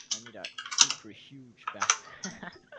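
Computer keyboard keys clack in a few quick bursts while someone talks over the typing.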